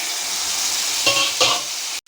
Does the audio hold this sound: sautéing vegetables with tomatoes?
yes